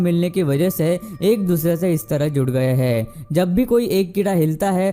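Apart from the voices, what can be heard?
None of the usual background noises is heard.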